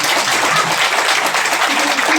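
A crowd at a Golden Nepal direct-selling marketing program in Butwal claps loudly and densely, a continuous roar of many hands filling the space with no break.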